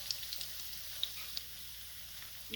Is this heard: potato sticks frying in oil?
yes